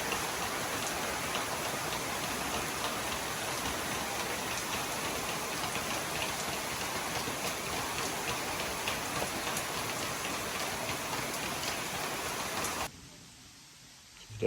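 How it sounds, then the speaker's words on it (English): Steady rain falling outdoors in a garden, a dense even hiss of drops on surfaces that continues unbroken before cutting off abruptly near the end. "Pretty sure it's raining."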